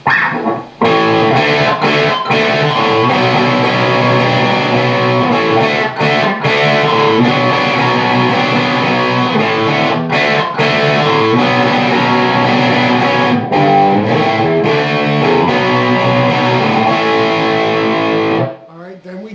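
A distorted electric guitar plays the chord progression of a song, with loud sustained crunchy strums changing chords steadily before stopping near the end.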